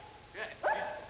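A dog gives two short barks close by, the second louder and sharper than the first, with no one speaking over them.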